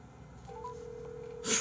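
A telephone being dialed to call someone's mother: a short tone rises, then a long steady tone holds for about a second, ending in a brief louder burst of noise, all fairly close and quiet with no talking.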